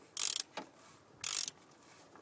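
A 32mm socket wrench ratchets while tightening an oil filter on a 2001 Opel Corsa 1.0, giving two close bursts of rapid clicking with a short click between them.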